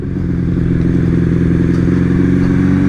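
A Honda CB750 motorcycle engine idles while warming up, a steady, loud, close rumble with a constant low throb and no change in pitch, with nobody talking.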